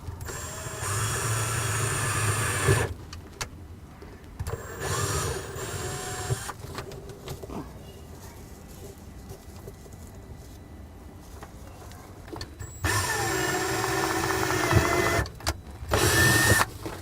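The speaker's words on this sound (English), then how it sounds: "Just go ahead and drill starter holes" Power drill boring starter holes through a mounting template while installing a Xantrex Freedom SW 3012 inverter, several whirring bursts of a few seconds each separated by quiet gaps, close and fairly loud.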